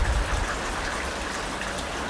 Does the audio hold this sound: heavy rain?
yes